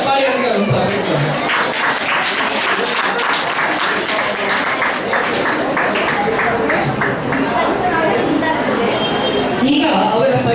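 Loud, sustained audience applause and cheering greet a guest coming onto the stage at a Kannada Rajyotsava and anniversary celebration, with crowd chatter and voices mixed in throughout.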